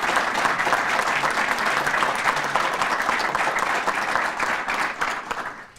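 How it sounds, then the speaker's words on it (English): A ceremony audience gives loud, sustained applause for community award winners, a dense continuous clatter of many hands that tapers off near the end. "please give a big round of applause and congratulations to all of our Do the Right Thing winners"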